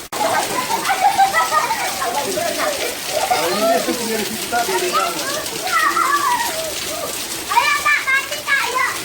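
Steady rain hisses over a group of children playing and splashing in a downpour. Their excited shouts and chatter rise and fall throughout and stay close and loud.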